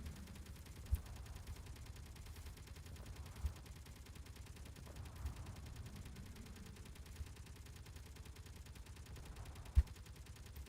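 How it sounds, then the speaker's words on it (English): Combat in the space-building game Space Engineers, with a steady low rumble of distant gunfire and scattered sharp blasts standing out now and then over a dense, continuous background din. "Well, I hear things blowing up."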